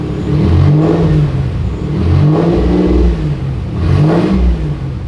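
A 1986 Nissan 300ZX engine revs three times through a custom exhaust with a new midpipe and no muffler or resonator, each rev swelling to a deep rumble and falling back, loud and close.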